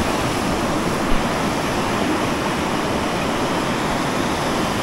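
The Tone River's main stream near Minakami where it meets a tributary, a steady, close, broadband rush of flowing water with no pauses or voices.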